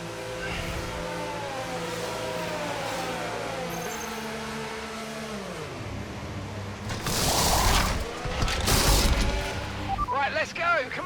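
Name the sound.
race car engine in F1 25 video game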